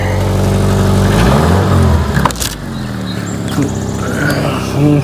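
A used car's engine runs smoothly at a local auction, a loud, close, steady idle hum with a brief dip and a few light knocks and rattles around it.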